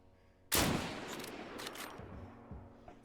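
A single sharp rifle shot from the video game Deadside cracks out loudly, followed by a long, fading echo and a couple of smaller distant pops.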